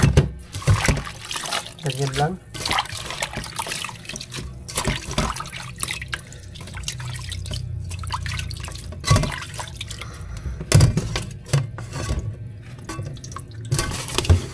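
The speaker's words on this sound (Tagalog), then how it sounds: "ating ilagay dito sa tinatawag na salaan para matanggal yung tubig" Water dripping and trickling as salted cabbage drains in a colander for homemade kimchi, with irregular splashes and handling noises close by while a person talks briefly.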